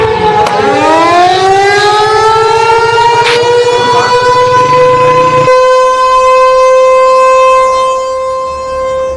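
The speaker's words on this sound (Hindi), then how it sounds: "लाहौर में सायरन बजना शुरू हुआ जब भारत ने हमले शुरू किए थे" Air raid sirens wail across Lahore, a loud sustained rising tone that holds steady and then cuts away into a fading tail, with no voices.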